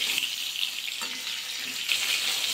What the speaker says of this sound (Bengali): বেগুনগুলো দুবারে ভাজা করব।